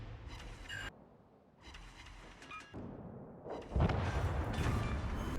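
Battleship guns firing armor-piercing shells in the naval combat game World of Warships Legends, heard as several heavy booming salvos with rumbling tails, moderately loud over low background game noise.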